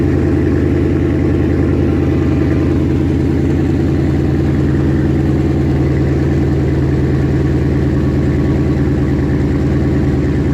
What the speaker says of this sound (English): That's a cold start, so I'm gonna let it